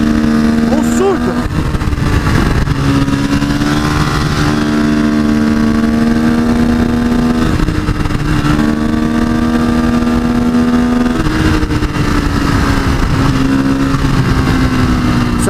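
A Honda CRF450SM supermoto engine revs and accelerates loudly and close, its pitch climbing repeatedly through several gear pulls across the run, with someone talking over it.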